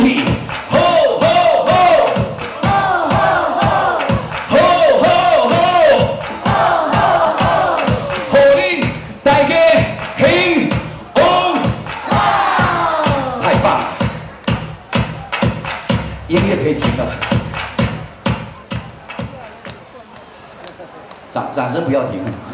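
A large crowd at an evening show in Singapore chants a rhythmic "hou hou hou" together, loud repeated shouts in a steady beat, led by an amplified voice that talks between the chants.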